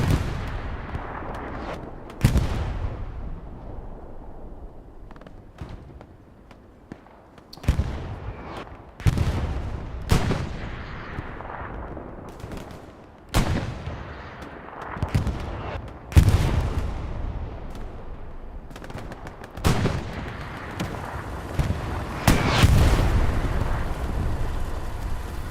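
Booming explosions and gunfire from a competitive Hell Let Loose match: heavy blasts land every few seconds, each with a rumbling decay, and bursts of shots fill the gaps. No voices are heard.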